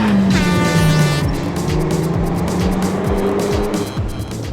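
Renault Megane hot hatch spinning its wheels off the start line in a race, with loud squealing tyres over a revving engine whose pitch slides as it pulls away, another car audible alongside.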